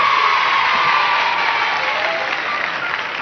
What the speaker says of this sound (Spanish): Un aplauso para esos muchachos que lo van a hacer lindo.